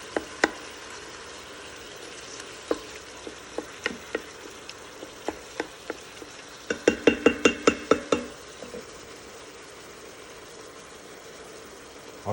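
Ground beef browns in an Instant Pot for chili with a steady sizzle, while a utensil scrapes and clinks against the pot at regular intervals, picking up into a quick run of clinks near the middle.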